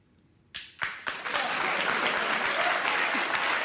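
A talk show studio audience bursts into applause after a brief silence, a few early claps swelling quickly into steady, full clapping that holds to the end.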